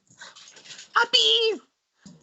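Puppies give a short, close whimpering yelp that rises and falls, between softer scattered squeaks, with people talking in the room.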